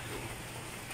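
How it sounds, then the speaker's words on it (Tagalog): Steady heavy rain pouring without a break during bad weather, a dense, constant hiss of drops with no pauses or voices. "Tapos gabi hanggang umaga, puro ulan. Walang tigil."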